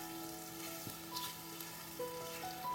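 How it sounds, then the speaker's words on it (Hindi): Paneer cubes, onion and capsicum frying in a kadai for restaurant-style kadai paneer, a steady low sizzle with faint stirring scrapes, close and continuous with no talk. "फिर इसमें हम पनीर के पीसेस डाल देंगे और प्याज और शिमला मिर्च को भी डाल देंगे और अच्छे से मिक्स कर लेते हैं।"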